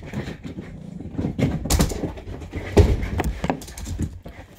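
Scrambling thumps, scuffs and skittering footfalls move around a house in irregular bursts, with occasional sharper knocks, as dogs chase each other indoors.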